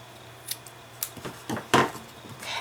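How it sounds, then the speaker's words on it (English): Scissors snip and trim a piece of paper while a five-point star box is finished, a few separate crisp cuts spread over a few seconds, close and moderately quiet. "I'm just going to take this piece and trim it off"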